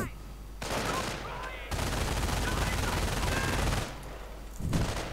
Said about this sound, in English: The MG crew down to one man. Steadfastly continues to fire.